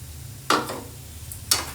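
A spoon stirs potato and bhindi masala curry in a pan on a switched-off stove, making two brief scraping strokes about a second apart over quiet background.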